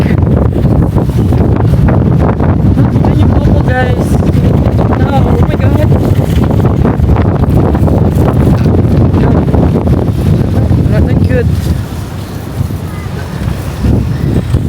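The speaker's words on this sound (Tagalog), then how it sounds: "ang lakas ng hangin" Strong wind roars and buffets the microphone nonstop, loud and blustery, while a person talks excitedly over it.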